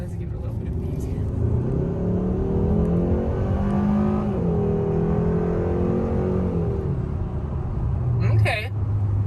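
A Hyundai Sonata N Line pulls away under light throttle, its engine a steady rising drone from inside the cabin that climbs and then levels off, with someone talking over it the whole time.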